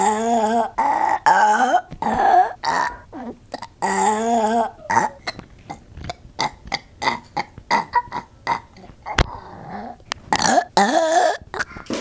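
A child lets out a string of loud, croaky burps at close range, some drawn out and gurgling, interspersed with short grunts and breathy noises in quick succession.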